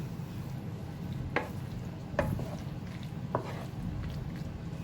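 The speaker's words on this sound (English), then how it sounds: "now stir that to mix everything well" Sour cream and mayonnaise are stirred into a chicken-cabbage skillet, making a soft, steady wet shuffle with a few light scrapes of the spoon against the pan.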